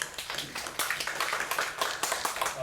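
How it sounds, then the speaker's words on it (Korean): A church congregation claps steadily, the applause building into a continuous patter of hands. "우리 감사의 박수 한번 돌립시다"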